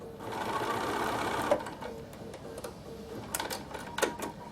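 A sewing machine stitches fabric for a tissue box cover at close range. A steady mechanical whir runs for about a second and a half, then it slows into short runs of stitches with ticks and clicks, and there is no talk.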